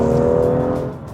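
A 2016 BMW M2 straight-six engine revs toward its 7,000 RPM redline, a loud, close, throaty tonal drone that holds steady and then eases off near the end.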